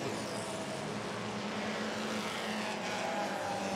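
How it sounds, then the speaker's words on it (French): A Lister Maserati race car rolls slowly into its pit stand at Le Mans Classic 2018, its engine giving a steady, moderately loud drone amid broad, washy trackside noise. "Et la Lister Maserati qui arrive au ralenti à son stand."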